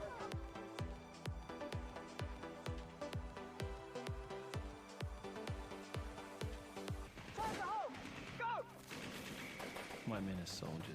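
Rapid bursts of gunfire and explosions in a broadcast break, a fast rhythmic volley of sharp cracks followed by louder blasts and crashes, with a voice speaking over part of it.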